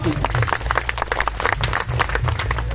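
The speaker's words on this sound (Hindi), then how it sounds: "जोरदार ताली बजाएं" Applause and clapping rise from a crowd at an outdoor rally on an Indigenous Peoples' Day gathering ground in Surajpur, Chhattisgarh, a dense, steady patter heard close.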